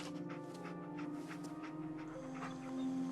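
Dog Meat, the dog companion in Fallout 4, pants in quick, soft, rhythmic breaths with faint whimpers, quiet and close over sustained background music tones.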